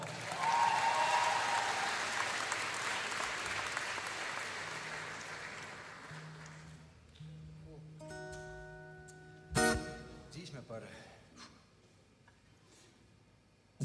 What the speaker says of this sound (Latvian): tā kā aplausies jau.